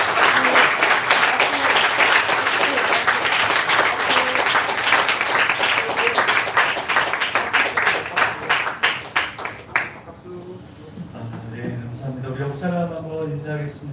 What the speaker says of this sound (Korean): 크게 박수!